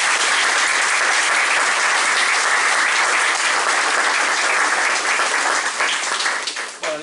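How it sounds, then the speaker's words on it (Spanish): An audience at an economics conference in Puerto Madryn, Argentina, claps loudly in a dense, sustained round, tapering off near the end, with no speech over it. "Aplausos por Argentina."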